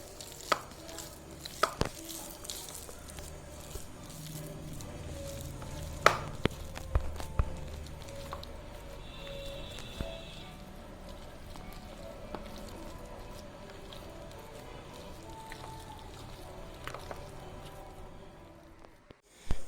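Chicken pieces being kneaded by hand with chilli flakes and ghee, giving soft, wet squishing and occasional sharper knocks against the bowl. The sounds are fairly quiet and close, with no talking.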